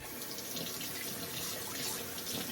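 Bathroom tap running steadily into a sink while a razor is rinsed off, a soft even hiss of flowing water, fairly quiet and close, with no talking.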